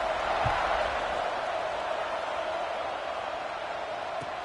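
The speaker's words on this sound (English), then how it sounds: "this crowd is buzzing after that last score" College football stadium crowd at Alabama at Clemson, a steady roaring buzz after a score, distant and continuous with a thump and faint whoops, commentary voices talking over it.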